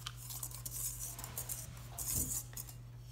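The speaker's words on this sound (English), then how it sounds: "Mix that around." A spoon stirs and scrapes bath bomb powder in a bowl, giving soft, continuous gritty scraping with a few light clinks, close and quiet.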